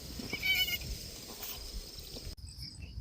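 A goat that has just given birth bleats once, close by and moderately loud, over a steady chirring of insects in a farm field.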